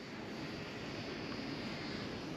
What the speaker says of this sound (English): I'm so out of practice flying planes, especially line of sight